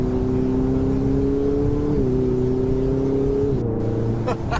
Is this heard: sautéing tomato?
no